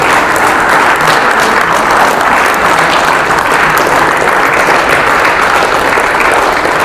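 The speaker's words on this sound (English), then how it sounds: "give the Chief Mrs. Folake Solanke, CON, another round of applause." A large crowd at a Court of Appeal justices' conference applauds steadily, a dense, even roar of clapping that holds at full strength for the whole stretch.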